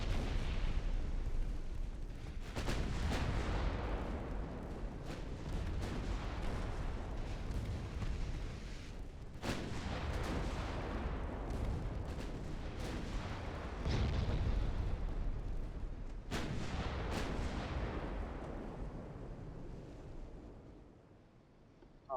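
Naval gunfire in the warship game Ultimate Admiral Dreadnoughts, a series of heavy booming salvos with long rumbling decays, several sharp blasts spaced seconds apart over continuous low battle rumble.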